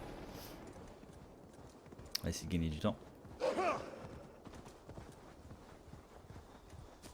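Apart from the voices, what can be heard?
horse hooves clip-clopping while riding in a video game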